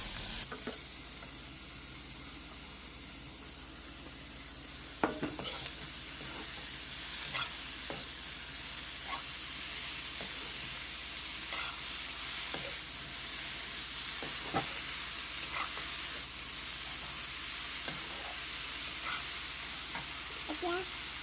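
Cut banana stem (kol posola) sizzles in a hot pan while cooking an Assamese kol posola dish, a steady close frying hiss broken by occasional sharp crackles and stirring clicks, with no talking.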